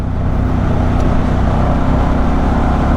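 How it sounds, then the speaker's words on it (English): A 2024 Harley-Davidson Sportster S engine while riding, a loud, steady low rumble with a continuous throbbing tone and wind rush, close and unbroken throughout. "best feature of the bike is the engine. So smooth, more of a higher end, higher rev range,"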